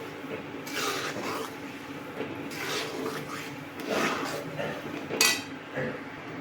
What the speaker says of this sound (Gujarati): હવે સતત હલાવતા રહેવાનું છે